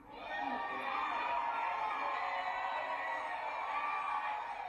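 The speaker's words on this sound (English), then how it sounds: "The rousing applause going to that party." Sustained crowd noise of cheering and applause at a political rally, a steady dense roar that swells in quickly and holds loud for several seconds without a break.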